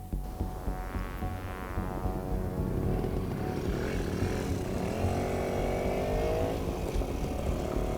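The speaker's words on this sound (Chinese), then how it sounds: "骑着他自己的一个摩托去前往他所说的度假村去调查这件事情" Marianne's motorcycle in The Medium video game, a steady engine drone rising slightly in pitch as it rides on, mixed with a sustained musical tone, continuous and fairly loud without talk.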